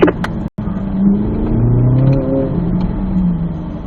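A Corvette Z06 engine pulls hard on an autocross course, a loud, close rising drone with a brief cut near the start, then a sustained climbing pitch as the throttle rolls on.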